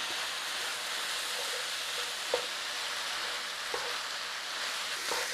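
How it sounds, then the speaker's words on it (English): Spices and meat fry in a pan with a steady, soft sizzle throughout, broken by a few faint clicks of stirring and no talking. "Start cooking your spices in with your meat."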